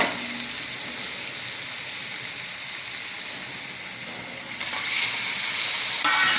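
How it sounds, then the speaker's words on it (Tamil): Chicken pieces go into a hot pan of spices for pepper chicken and fry with a constant close sizzle that swells louder toward the end, and no one speaks. "இப்போ நம்ம இதில் சிக்கனை போட்டுடலாம்"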